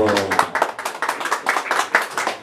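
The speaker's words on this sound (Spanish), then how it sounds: "Sí, señor, el aplauso." Several people clap together at a mariachi birthday serenade, a quick ragged burst of close handclaps rising and falling in rhythm, with a voice talking over the start.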